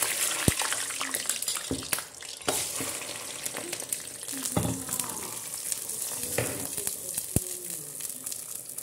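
Plantain slices frying in hot oil give a soft, steady sizzle with occasional sharp pops and clinks of a utensil, fairly quiet and close, no voices over it.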